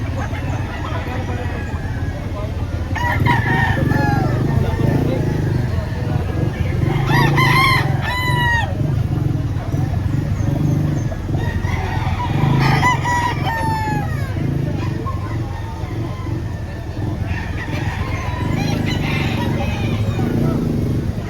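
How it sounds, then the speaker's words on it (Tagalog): Several roosters crow at intervals amid steady clucking and farmyard chatter at a market in Lipa, Batangas, with people talking and a motor humming in the background. "Ito yung mga manok."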